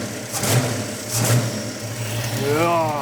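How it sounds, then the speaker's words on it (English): A 1969 Dodge Charger with an EFI conversion, not yet fully warmed up, revs in short repeated bursts from close by, the engine swelling and falling back toward idle, with a voice briefly heard over it. "Like the rev, oh my gosh, is it crisp."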